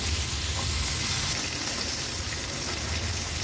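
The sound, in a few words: fresh fish frying in oil in a pan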